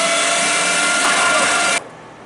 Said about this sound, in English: let's grind up some of this pork